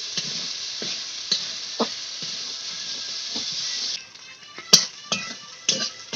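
Tilapia fish fries in oil in a pan with a constant bright sizzling hiss, broken by scattered clicks and scrapes of stirring, and no talking.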